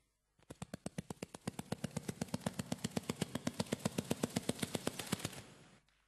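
A voice on a comedy concert stage imitates a helicopter, breathing inward with the tongue behind the lips, making a rapid, even string of fluttering pulses, building slightly then stopping abruptly, close but quiet.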